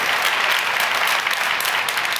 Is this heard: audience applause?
yes